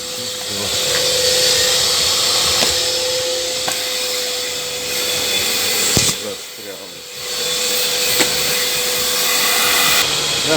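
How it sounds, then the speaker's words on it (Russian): A Makita VC3011L construction vacuum cleaner runs with a steady, loud motor whine and broadband air rush, briefly dipping around the middle as the hose is moved, with light thumps from debris. "То есть пылесос нормальный."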